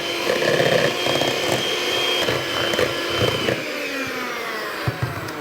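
A hand mixer beats apple puree into a no-added-sugar red velvet cake batter, giving a loud, steady motor whine that runs without a break and with no talking.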